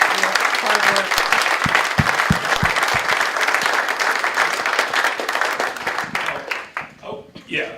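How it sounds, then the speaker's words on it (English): Loud, dense applause from a large seated audience at a mock Senate committee hearing in a university hall, steady clapping throughout that thins and tapers near the end. "every single one of you sitting here today, deserves a huge round of applause"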